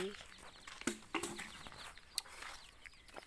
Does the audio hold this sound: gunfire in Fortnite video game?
no